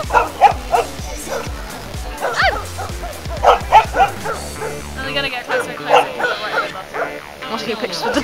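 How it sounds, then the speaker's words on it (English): Several dogs bark, yip and whimper at an outdoor photo shoot, with short bursts repeating close by throughout while people talk over them. "Oh, dog's following you."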